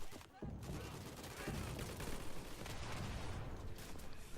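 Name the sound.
gunfire from the video game Day of Infamy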